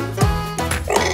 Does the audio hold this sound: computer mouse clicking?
no